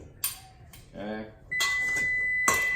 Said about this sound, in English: You guys heard that. The oven is ready.